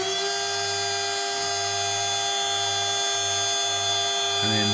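High-pitched whine of an HSD spindle on a CNC router driven by a 400 Hz VFD, steady and close, with a pulsing low hum underneath and a shift in pitch near the end as it ramps back to 24,000 rpm.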